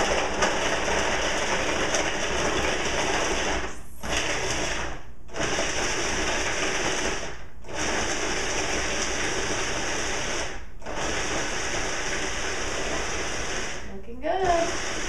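A food processor pulses raw ingredients in several long whirring bursts, loud and close, each separated by a short pause and ending with a brief final pulse.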